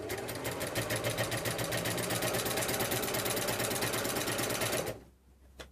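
A sewing machine stitches binding onto fabric in a steady, rapid, mechanical chatter, close and loud, then stops abruptly near the end, leaving a faint hum and a small click.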